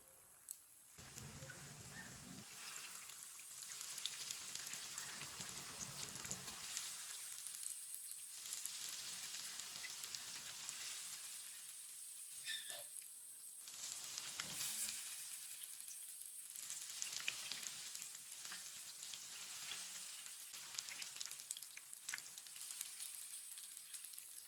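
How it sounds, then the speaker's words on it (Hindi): Tikkis dipped in batter and frying in hot oil over a medium flame, a steady close sizzle with crackling pops, continuous and alone throughout. "सारी टिक्कियों को डिप करके मैंने डाल लिया है। 2 मिनट के लिए पकने देते हैं मीडियम आंच पर।"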